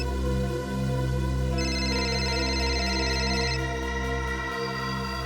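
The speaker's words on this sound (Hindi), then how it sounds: "सर किसी शेफाली का फोन था।" Telephone rings in a Hindi TV crime drama, an electronic ringtone pattern sounding from about 1.5 to 3.5 seconds over a steady, loud background music bed.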